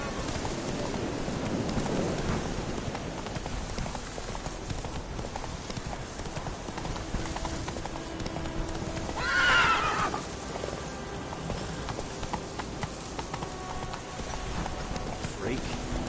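Roach the horse in The Witcher 3 clip-clops along at a steady gait, then lets out a loud, close neigh midway, with someone talking over the hoofbeats.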